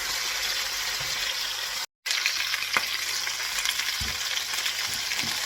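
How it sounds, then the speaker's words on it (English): Chicken pieces sizzle steadily in a pan, and scattered clacks sound as the pieces are flipped over. A short gap of silence interrupts the frying, and no one speaks. "I'm going to start flipping these over because again, I just want them lightly browned on each side"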